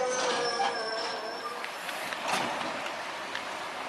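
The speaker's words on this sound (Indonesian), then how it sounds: "lokomotif mulai melewati perlintasan" At night a sugar cane train locomotive from the PG Kedawung mill rolls along rails at a crossing, giving a moderate rumble with faint metallic squeals and clanks, and people talk nearby.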